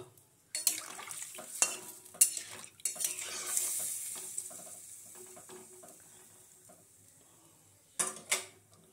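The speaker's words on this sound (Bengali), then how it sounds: "এই যে ঝোল টকবক করে ফুটছে" Fish curry broth with small chuno fish bubbling in a pan, a steady soft hiss of simmering liquid with clinks of utensils near the start and a couple of sharper knocks near the end.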